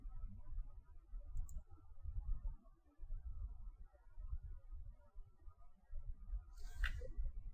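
Typing on a computer keyboard: a steady run of soft, quick key clicks, close and fairly quiet, continuing without a break and with no voices.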